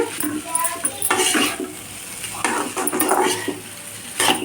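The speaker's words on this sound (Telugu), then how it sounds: "కొబ్బరి వేసిన కానీ చడువు పడుతుంది చూసుకుంటూ కలుపుకుంటూ ఉండాలన్నమాట" Ivy gourd and grated coconut are stirred in a frying pan over low heat, with a spatula scraping and clinking against the pan in irregular bursts over a faint sizzle.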